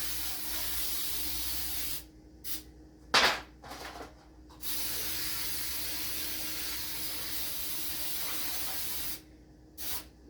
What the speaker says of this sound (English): I like the Baker's Joy because it has the flour in the spray.